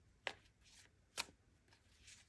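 A deck of tarot cards is shuffled in two quick riffling bursts about a second apart, close and soft, in a quiet setting.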